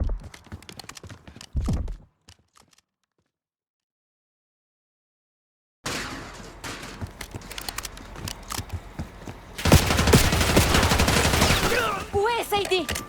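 Gunfire in the Call of Duty Black Ops 6 campaign, with bursts of rapid shots and clatter, a silent gap in the middle, then dense, loud sustained firing toward the end.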